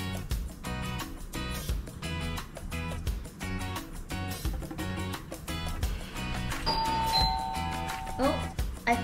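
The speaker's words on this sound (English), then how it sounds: "Oh, I think I heard the doorbell." A hotel room doorbell rings with a ding-dong chime during a quarantine stay in Makati, Manila, sounding clearly several times over a steady background of rhythmic music.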